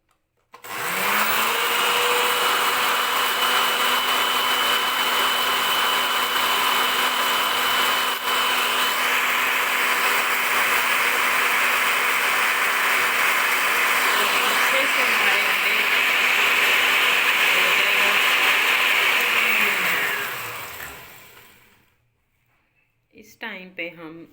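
A blender whirs loudly and steadily for about twenty seconds while eggs, salt and oil are blended into mayonnaise, then winds down to a stop, with brief clatter afterward.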